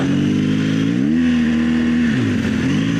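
An adventure motorcycle on knobby tires rides over dirt, its engine droning loud and close with a steady mid-pitched hum that rises and dips as the throttle changes.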